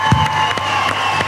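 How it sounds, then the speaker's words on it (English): A short burst of audience applause and cheering at a live country music radio show at the Tamworth Country Music Festival. Clapping is steady and fairly close, with crowd noise mixed in. "I think you deserve a round of applause yourself"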